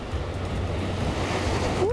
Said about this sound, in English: The waves are coming in fast and furious, very rocky beach.